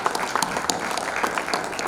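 Applause for mountain clean-up campaign volunteers at a 2022 celebration, a crowd clapping steadily and fairly near, with a brief voice underneath.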